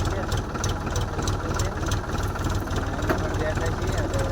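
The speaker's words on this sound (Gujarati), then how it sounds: "ટ્રેક્ટર હાંકી લઈશું" A tractor engine runs steadily at close range, its low rhythmic chug and knocking pulse continuous throughout, with voices talking over it.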